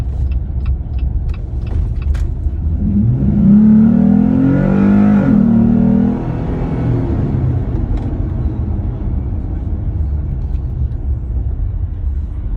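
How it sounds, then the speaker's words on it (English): A Jeep Gladiator fitted with an S&B cold air intake accelerates from inside the cab, its engine drone swelling into a rising roar for a few seconds before settling back into a steady road rumble. "step on it and really give it some gas and accelerate"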